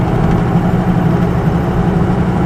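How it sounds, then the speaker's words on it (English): Steady low engine hum with a faint turbo whine inside the closed cab of a Ford truck with a 6.0 Powerstroke diesel, constant and unbroken, no talking. "you can kind of see the static hum of the turbo"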